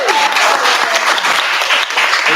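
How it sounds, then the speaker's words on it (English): Loud, dense applause from a wedding crowd, steady clapping filling the whole moment without letting up. "give a round of applause for that."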